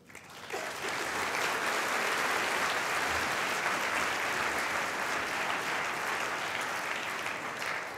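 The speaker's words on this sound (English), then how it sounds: "please join me in a warm round of applause for the Medical Society" Warm, sustained applause from a large audience at a medical school white coat ceremony, a dense even wash of clapping that swells quickly and holds steady throughout.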